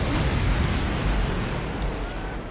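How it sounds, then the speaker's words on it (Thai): A loud, dense rumbling blast with crackling debris, sustained and heavy throughout, a clay bomb explosion going off up close in Naruto Shippuden Ultimate Ninja Storm 4. "ดินเหนียวระเบิด"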